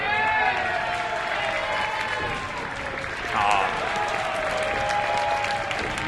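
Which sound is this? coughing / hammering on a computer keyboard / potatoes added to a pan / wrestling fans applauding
wrestling fans applauding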